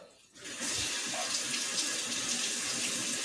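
Water running from a tap, a steady hissing gush that starts abruptly after a brief quiet moment and continues evenly, fairly soft and alone.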